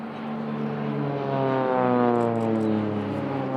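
Swiss Air Force PC-7 turboprop trainers in an airshow display pass overhead with a strong droning propeller tone, its pitch sliding as they cross, loud and sustained.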